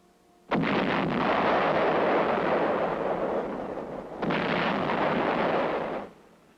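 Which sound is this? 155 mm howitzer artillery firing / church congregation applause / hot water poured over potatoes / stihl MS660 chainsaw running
155 mm howitzer artillery firing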